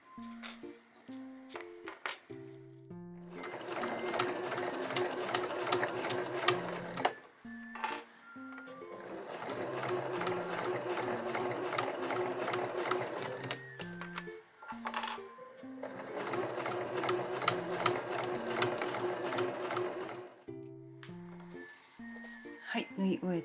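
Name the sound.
sewing machine stitching fabric for a zip pouch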